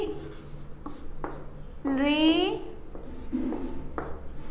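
Letters are written by hand during a Hindi-language lesson on Sanskrit vowels, with short scratchy strokes and one longer squeaking stroke heard under a teacher's speech.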